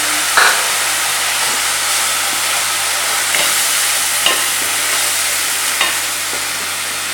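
Ginger, garlic and green chilli paste frying in a pan with turmeric, a constant loud hissing sizzle broken by a few sharp clacks of a spoon stirring against the pan, close up, no talking.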